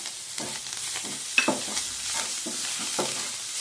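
A spoon stirring vada pav potato filling with garam masala and chopped coriander in a pan gives a steady, close scraping and light sizzle, with rhythmic strokes about every half second.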